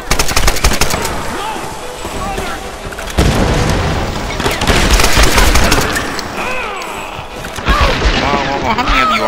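Rapid automatic gunfire from a weapon in the Tomb Raider video game, in loud continuous bursts with booming impacts, layered over game music and effects.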